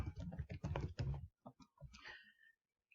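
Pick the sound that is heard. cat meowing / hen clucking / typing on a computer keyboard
typing on a computer keyboard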